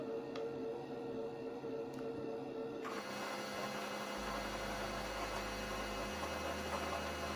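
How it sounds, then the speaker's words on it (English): A sewing machine winds thread onto its bobbin, giving off a steady mechanical hum that grows louder and more even partway through and then holds at a constant whir. "Now while it is winding, you see the display on the screen indicating that the bobbin is winding right now."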